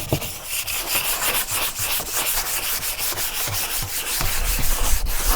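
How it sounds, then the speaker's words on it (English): Sanding a C3 Corvette hood by hand with 120 grit 3M sandpaper, a steady scratchy rubbing in repeated back-and-forth strokes, close and fairly loud, growing a little stronger toward the end with no talking. "Just getting around to sanding it. I'm using 120 grit 3M paper."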